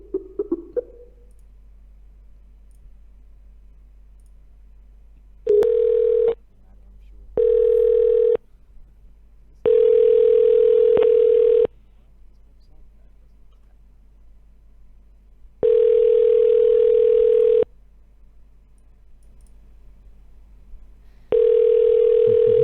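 A telephone ring tone sounds in repeated buzzing pulses of uneven length, separated by quiet gaps, heard through a phone line.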